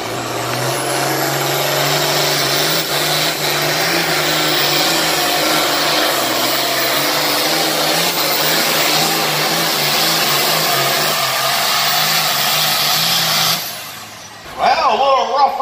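An International 1066 tractor roars through a pull at a fair, its engine holding a loud, steady, strained drone for about thirteen seconds before cutting off, with an announcer's voice over it and crowd noise at the end.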